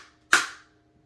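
A rifle magazine drops free from a receiver with ambidextrous controls, giving one sharp metallic clack that rings out briefly. Low steady hum underneath, no talking.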